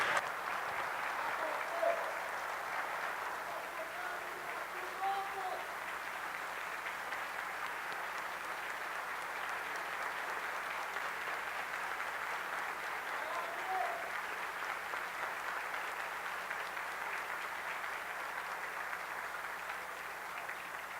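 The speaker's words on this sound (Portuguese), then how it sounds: "me permitam, eu estou aqui para aplaudir" A real estate congress audience breaks into sustained applause, a broad even wash of clapping filling the hall for a long stretch, steady in loudness and heard at a slight distance.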